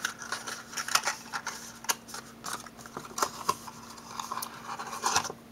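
Crisp paper scratches and creases as the edges of a small square paper box are folded shut by hand, quiet and close, in short irregular strokes with brief pauses.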